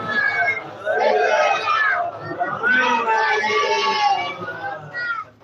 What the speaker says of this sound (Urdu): بلند آواز سے نعرے سلوات پڑھیں